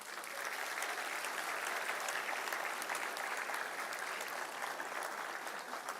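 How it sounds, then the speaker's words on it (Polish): A large crowd gives a sustained wash of applause, even and fairly distant, with no voices over it. "Wielkie brawa dla Was!"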